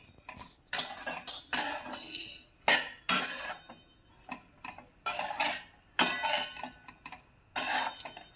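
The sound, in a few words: grated coconut being dry-roasted and stirred in a pan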